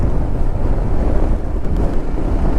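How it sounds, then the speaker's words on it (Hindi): Strong wind on the beach at Rameshwaram, a loud constant roar and buffeting rush against the microphone, with no talking. "उससे दुगनी हवाएं चल रही हैं आज,"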